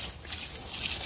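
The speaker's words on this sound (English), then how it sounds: "We're going to go ahead and hose off the inside because it desperately needed it." Water hosed into the inside of an off-road vehicle's air box caked with dirt and mud, a steady close hiss and trickle of spray running the whole moment with no talk.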